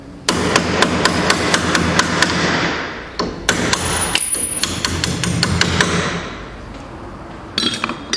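Sharp metallic hammer blows drive a 12 mm spacer against an old bolt on a trailer coupling, struck in quick regular bursts with short pauses, loud and close.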